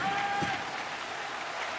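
Crowd cheering and applauding in the NHL 25 hockey video game, a dense steady roar of clapping and cheers with a brief whistle-like tone at the start.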